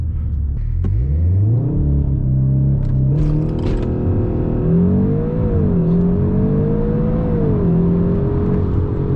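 Seat Leon Cupra 300hp hatchback launching hard from a standstill with launch control, engine rising in pitch through several gear changes in a loud, continuous close-up roar from inside the car.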